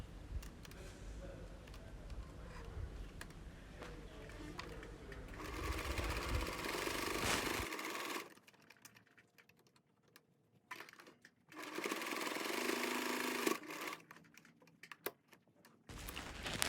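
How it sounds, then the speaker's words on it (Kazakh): A sewing machine stitches around the edges of a Kazakh patchwork quilt piece, running in close, rapid bursts of whirring needle clatter separated by brief pauses and quieter handling noises. "Енді айландырып жан жағын тігіп шығамын."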